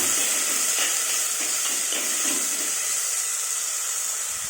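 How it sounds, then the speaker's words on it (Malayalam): Tomato and onion fry in a pan for a Kerala-style fish curry, giving a steady bright sizzling hiss with soft scraping from stirring throughout. "നേരത്തെ മാറ്റി വെച്ച തക്കാളി, സവാള ഇതിലേക്ക് ചേർത്ത് കൊടുക്കുകയാണ് നമ്മൾ. ഇത് നന്നായിട്ട് ഇളക്കി കൊടുക്കുകയാണ്."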